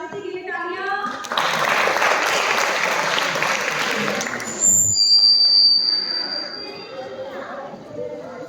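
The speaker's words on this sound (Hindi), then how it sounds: "जागृति के लिए तालियां।" An audience at a school inter-house poetry recitation contest applauds a contestant, a loud, dense burst of clapping that swells in, holds for several seconds and then tapers, with a voice briefly heard at the start.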